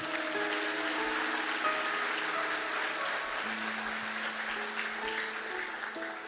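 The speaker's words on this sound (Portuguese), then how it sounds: "Aplauda o Senhor" Church congregation applauding steadily, a dense continuous patter of many hands at moderate volume, with sustained keyboard tones playing underneath.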